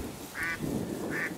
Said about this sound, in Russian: Ну вот он, первый селезняка